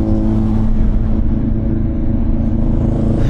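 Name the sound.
CFMoto 450NK motorcycle accelerating to overtake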